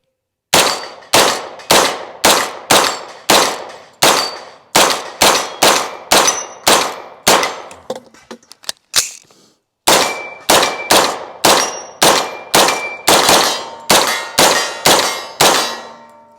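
A CMMG Banshee pistol in .45 ACP fired repeatedly at steel target plates: loud, sharp metallic clangs ring out one after another in steady volleys. A brief rattling pause falls midway before the string of ringing hits resumes.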